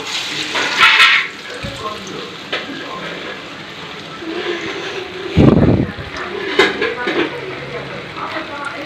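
Pieces of pomfret fish frying in oil in a pan over a low flame, roadside-stall style, with a steady soft sizzle, occasional clinks and splashes, and a voice talking over it.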